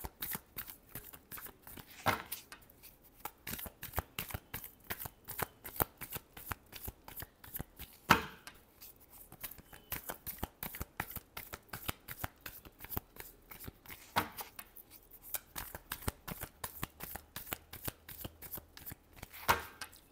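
Tarot cards shuffled by hand in a steady run of rapid riffling, papery flicks across about twenty seconds, close and fairly quiet, with brief pauses between bursts and no talking.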